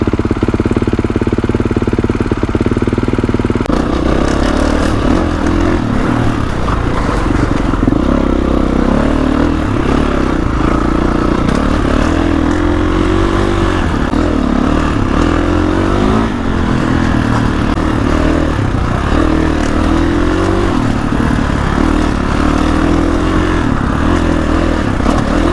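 A 2021 Kawasaki KX450X dirt bike rides woodland trails, its single-cylinder engine loud and close throughout, constantly revving up and easing off with clattery chassis noise and no talking.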